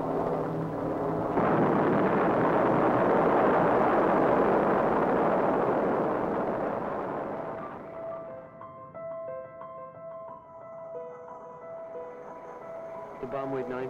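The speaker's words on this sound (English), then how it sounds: "The bomb exploded within 100 feet of the target." A rumbling atomic bomb blast in a 1945 Hiroshima setting, a loud, deep roar swelling for several seconds and then fading into quieter tones.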